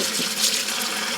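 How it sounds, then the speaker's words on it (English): Tap water running steadily over a bowl of sliced potatoes being rinsed in a home kitchen, a close, continuous splashing gush with no talk. "So I want to rinse that off."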